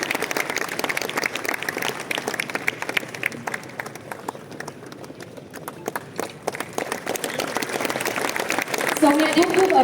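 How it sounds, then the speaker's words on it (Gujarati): An audience at an award felicitation ceremony claps for several seconds, the applause thinning in the middle and swelling again toward the end, with a voice speaking over it. "ખૂબ તાળીઓ સાથે આપણે એમનું ઉત્સાહવર્ધન કરીશું."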